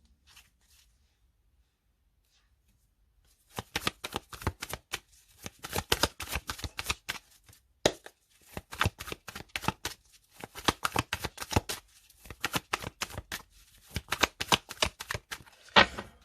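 Tarot cards being shuffled and cut by hand, heard as close, crisp rapid riffling in irregular bursts after a few seconds of near silence, with short gaps between handfuls.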